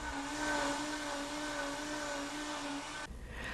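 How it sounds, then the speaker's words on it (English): A kitchen mixer whirs steadily as it blends tomato sauce, a faint, even motor whine with a sustained hum that cuts off sharply near the end. "I'm going to beat this sauce in the mixer"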